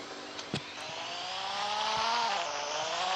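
A car driven in the Roblox video game gives a steady, buzzing engine drone whose pitch slowly climbs, with a couple of sharp clicks near the start.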